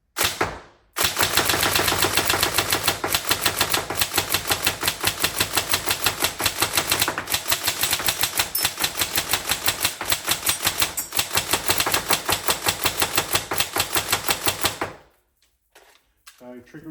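A Tokyo Marui M4 URGI NGRS electric airsoft rifle fires one long continuous fully automatic string of rapid, evenly spaced mechanical cracks, close and loud for about fourteen seconds before stopping abruptly into near silence.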